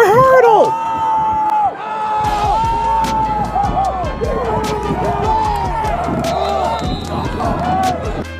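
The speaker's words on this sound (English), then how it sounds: "you hear the crowd screaming like that" Spectators at a semi-pro football game scream and cheer, a jumble of loud shouting voices and yells layered over one another throughout, with nearby speech mixed in.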